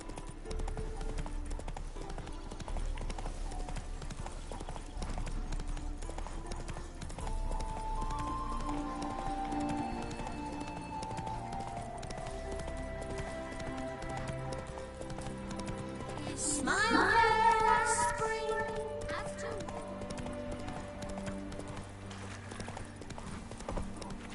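Roach the horse galloping in The Witcher 3, rhythmic hoof clip-clops running steadily under game music and ambience, with a short louder burst near the end.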